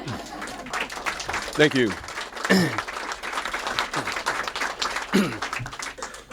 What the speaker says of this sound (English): we should applaud the Timbergs